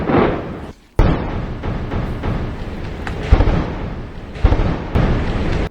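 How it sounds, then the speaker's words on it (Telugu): Explosions from bomb and missile strikes during an Iranian ballistic missile barrage on Israel. Loud, heavy booms roll into a continuous rumble, with a sudden drop to near silence and then sharp fresh blasts. "ఒక్కసారి ఏ స్థాయిలో అక్కడ బాంబు దాడులు జరిగే ఒకసారి విజువల్స్ చూద్దాం"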